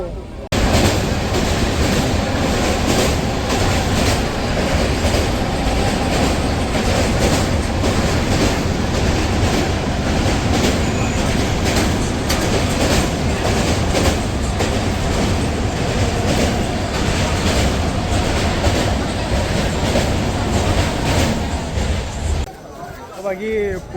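Dhauli Express (12822) running from Puri to Shalimar, a steady loud rumble of wheels and carriages on rails with rhythmic clatter throughout, background chatter mixed in, easing off near the end.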